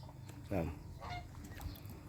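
Geese honk among ducks at close range, with a few short nasal calls, one louder burst followed by quieter scattered honks over a steady low background hum.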